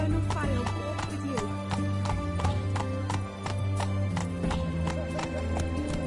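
Roach, a horse in The Witcher 3 video game, gallops with steady rapid clip-clop hoofbeats over a dense game soundscape, with a brief whinny and a voice talking over the run.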